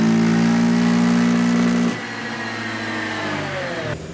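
A Yamaha Grizzly ATV with a fuel tuner, modified air filter and lid and a stock exhaust roars loud and close at high revs on a dyno, holds, then drops to a lower idle before cutting back again.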